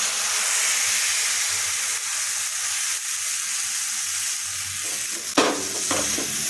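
Rice-flour batter sizzles on a hot iron tawa for sorucha kuli pitha, a steady close hiss with a few sharper spits near the end, and no talk.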